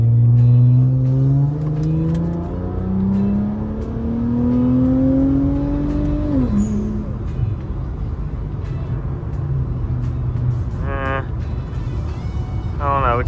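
Infiniti Q50 Red Sport AWD with a VR30 engine and downpipes accelerates, its engine note climbing in pitch for several seconds and then dropping as it shifts, loud inside the cabin, with brief voices at the end.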